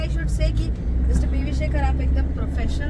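Vehicles stream past on a steep hill road near Araku, Andhra Pradesh, a steady close engine rumble and passing cars and buses under ongoing talk.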